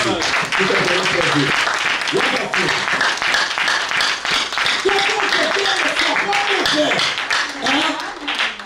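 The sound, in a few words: congregation applauding for the Lord Jesus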